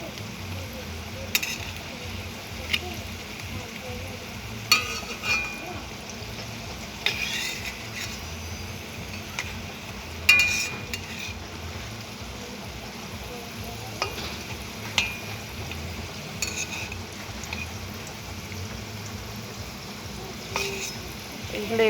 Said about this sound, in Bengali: এগুলো এপাশ ওপাশ করে ভাজতে হবে।